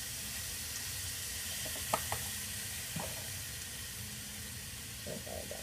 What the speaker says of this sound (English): Saute the vegetables, and it smells really amazing.